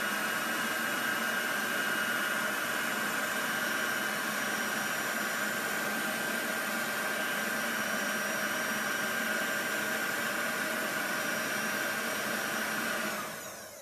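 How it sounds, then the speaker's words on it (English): A steady, loud blowing roar from an embossing heat gun drying ink on a tin mug runs continuously, then cuts off at the end. "You could do this with a embossing gun or a hair dryer"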